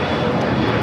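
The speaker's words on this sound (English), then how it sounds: "Next takeoff is United Airlines Flight 1834. It's a flight heading to Dulles in a 777-200." A United Airlines Boeing 777-200 bound for Dulles takes off at LAX, giving a brief, loud, steady jet-engine roar with no voices.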